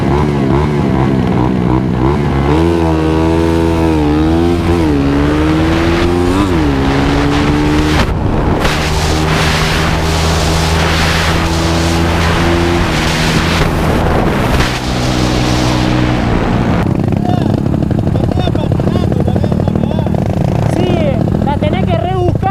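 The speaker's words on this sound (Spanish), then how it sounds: "Para la salida de esta moto, ¿viste?" A 250cc motorcycle with a performance cam launches at a drag race start, its engine roaring and revving hard through rising gear-like pitches, loud and close, with strong wind buffeting the microphone and talk mixed in.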